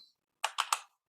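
Three quick, crisp keystrokes on a computer keyboard, close and clean against near silence, following a faint brief click.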